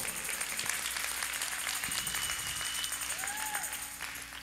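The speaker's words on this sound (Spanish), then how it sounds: "Dale un aplauso al Señor" A church congregation claps in praise during a Spanish-language sermon; a soft, even wash of applause runs throughout, with faint tonal hums and a brief whistling sweep in the room behind it.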